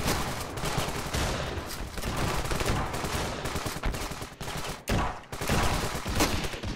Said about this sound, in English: my teammate just shot my friend